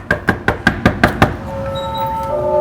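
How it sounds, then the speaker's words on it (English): Seven quick, evenly spaced knocks on a door, then a two-tone doorbell chime rings out and lingers. "Knocking on the door, ring the doorbell."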